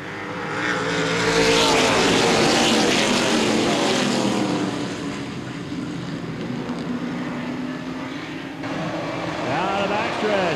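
Late model race cars at Baer Field Speedway on a 2013 feature night, the field roaring past at the green flag: a loud, sustained engine drone that swells and fades, with a race announcer talking over it.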